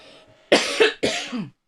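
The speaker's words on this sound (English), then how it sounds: "Why wasn't I coughing when I wasn't speaking?" A person coughs twice in quick succession, sharp and close, after a brief soft throat noise.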